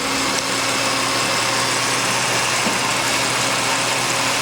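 A Sable car engine with a new belt idles steadily and close by, a constant low mechanical hum with a faint rattle, no voices over it.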